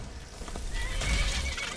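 Loud, close whinny from a horse in the video game Skyrim, rising over a busy background of hooves and game rumble, with no talking.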